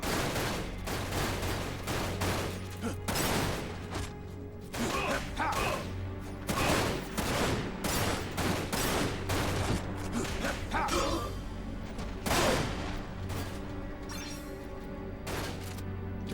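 Rapid bursts of gunfire from the video game Dirge of Cerberus: Final Fantasy VII, repeated volleys and machine-gun rattles with crashing impacts, loud and continuous throughout.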